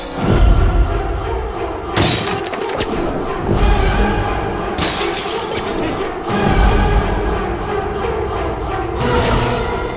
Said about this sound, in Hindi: कांच की बोतलों का यही तो प्रॉब्लम है, टूट जाती हैं।